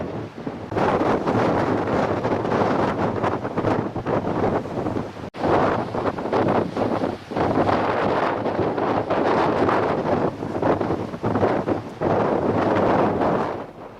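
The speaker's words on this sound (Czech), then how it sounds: "Větr jsou asi 100 km v hodině." Loud, relentless wind of about 100 km/h in the Sierra Nevada, USA, roars and buffets the microphone in continuous gusts, with only a momentary dip.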